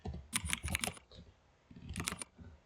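Computer keyboard typing while coding PHP, two short bursts of quick close clicking keystrokes separated by a brief pause, soft and alone.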